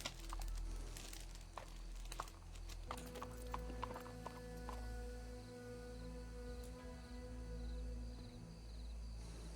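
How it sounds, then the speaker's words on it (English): Horse hooves clopping steadily in a game, with a low rumbling background and occasional sharp clicks. "It's like Jody's horse"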